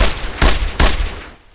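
Heavy gunfire from the World War II shooter Brothers in Arms: Road to Hill 30, two loud close bursts of rifle and machine-gun fire about half a second apart over a constant din of battle.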